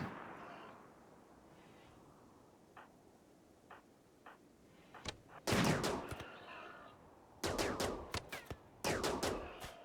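Colonists' guns fire in the Rimworld video game on a sea ice map, with sharp shots breaking a quiet lull and then clustering into rapid, loud volleys.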